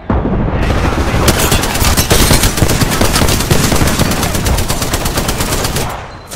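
Rapid sustained automatic gunfire from an Apex Legends firefight, playing as Gibraltar in season 8, dense and loud for several seconds with scattered heavier booms, fading near the end.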